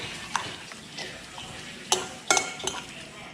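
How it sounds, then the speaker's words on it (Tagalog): Onions and ginger are stirred together for kinilaw, giving a few soft scraping clinks of a utensil against a bowl, close and sparse in an otherwise quiet kitchen. "ilagay na natin ang ating mga sibuyas. Luya. Yan, mix lang natin."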